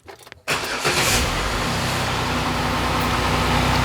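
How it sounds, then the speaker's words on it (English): Jeep Wrangler engine cranks briefly and catches, then settles into a steady, loud idle close to the listener, with no talking. "Let me start the engine."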